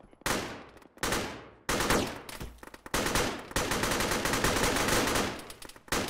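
Gunfire in a ShackTac military video game, heavy repeated bursts and rapid automatic fire with sharp onsets and long echoing tails, loud and continuous with brief gaps.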